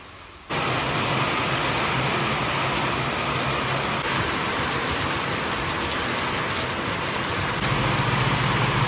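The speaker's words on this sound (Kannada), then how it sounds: "ಬರೀ 5 ನಿಮಿಷ ಒಳಗೆ ಹಂಗೆ ತುಂಬ ನೀರು ಮಳೆ ಫುಲ್ ಜೋರೈತ್ರಿ" A dense, steady roar of heavy rain begins abruptly after a brief quiet moment and continues unbroken, loud and close.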